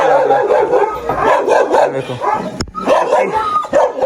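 A tethered dog barking and yipping close by, a run of sharp, excited barks and higher yelps with a brief pause, over which a person briefly speaks.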